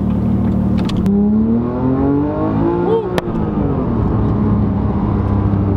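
A Porsche GT3 fitted with an RS clutch and flywheel revving up from inside the cabin, with the engine note climbing quickly in pitch, dropping back sharply around midway, then settling into a steady hum as a voice briefly speaks.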